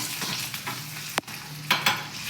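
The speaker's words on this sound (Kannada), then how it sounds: "ಇನ್ನೊಂದು ಇಲ್ಲೇ ಬಾಂಡಿಗೆ ಬಿಟ್ಟಿದ್ದೀನಿ" A fried egg sizzles steadily in a pan, with a few scraping stirs and one sharp clatter near the middle. Close and fairly quiet, with no talking.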